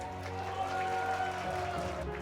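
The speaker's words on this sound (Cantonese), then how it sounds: "俾掌聲大家先" Audience applause fills a martial arts association's anniversary banquet hall: a steady, dense clatter of clapping that continues throughout, with faint tonal background sound underneath.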